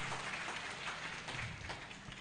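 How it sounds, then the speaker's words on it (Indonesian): Faint applause from a university lecture audience for a student, a brief soft patter of clapping heard from a distance. "tepuk tangan dulu untuk Adik Ari"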